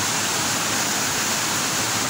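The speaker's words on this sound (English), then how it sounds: "the seven beauty waterfalls at Gabala." Steady, dense roar of the Yedi Gozel (Seven Beauty) waterfalls in Gabala, seven falls dropping down a steep mountain hillside, a continuous broadband rush with no talk.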